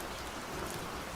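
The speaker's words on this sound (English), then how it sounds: "Oh, look, it's going to rain." Steady rain pours in a soft, continuous hiss, faint and even with no other sounds.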